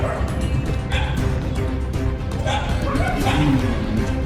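Several dogs bark and yip in short repeated bursts outdoors, fairly close, with people talking over them throughout.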